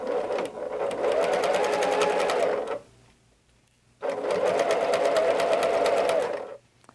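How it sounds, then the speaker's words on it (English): Sewing machine stitching three quilt rows together in two steady bursts of fast, even needle rhythm, with a short quiet pause between them and no talk. "Now we need to sew these 3 rows together."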